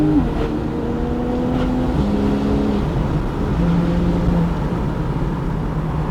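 A Porsche 911 Targa 4S engine revs up through rising gear pulls, a loud, steady, throaty drone with stepped pitch climbs and no talking over it.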